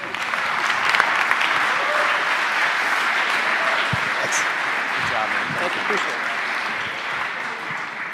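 An audience applauds after a conference talk, a long, steady roar of many hands clapping, loud and even throughout, with scattered voices and a few louder individual claps.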